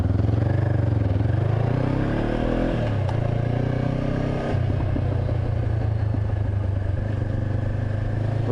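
A Honda CB500X adventure motorcycle rides through town at moderate speed, its engine droning close and loud with rising and falling revs through gear changes, over steady wind noise.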